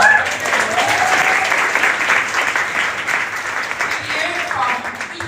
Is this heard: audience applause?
yes